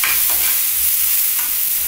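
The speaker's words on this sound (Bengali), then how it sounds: "এই ছড়ানো কড়াইতে রান্না করলে কি হয়, সব আস্তে আস্তে সুন্দর ভাজা হতে থাকে।" Sugar and whole spices fry in a wide karai while being stirred, giving a continuous, close sizzle with faint scraping strokes and no talking.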